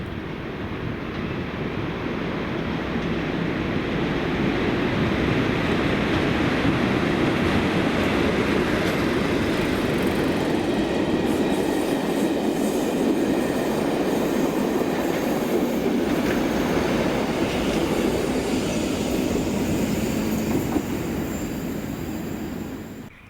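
A train hauled by locomotive 37099 rumbles steadily past at close range on the Ayrshire coast, a continuous broadband roar of wheels and rails that swells and holds for over twenty seconds before easing off.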